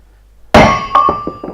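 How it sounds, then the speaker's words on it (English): Sharp metallic hammer strikes on a Valmet 911.3 hub ring out, one heavy blow followed by several lighter taps in quick succession, with a lingering clang. "So let's keep hammering."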